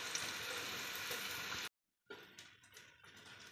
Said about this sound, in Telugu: గోల్డెన్ బ్రౌన్ కలర్ వచ్చేంత వరకు ఉల్లిపాయలు వేయించుకోవాలి.